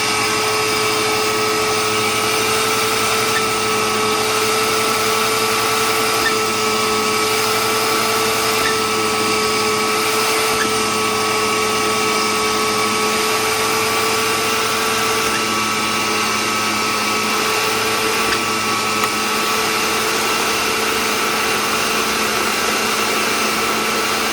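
A Eureka Whirlwind Litespeed vacuum cleaner runs continuously close by, a loud steady motor whine with a constant airy rush and stable tones that barely change throughout.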